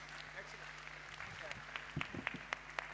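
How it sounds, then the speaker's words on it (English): Audience applause for panel speakers at the close of a conference session, steady scattered clapping from a crowd in a hall, fairly soft and distant. "Round of applause for all the speakers."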